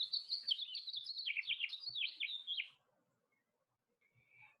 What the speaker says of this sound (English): This is called house finch.